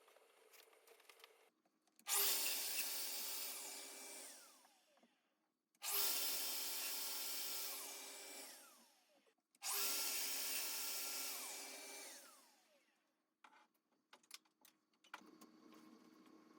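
A domino joiner bores mortises into wooden parts for a modern TV cabinet, heard as three loud, steady whirring bursts of about three seconds each, separated by short pauses, with faint clicks and handling noise at the end and no talk.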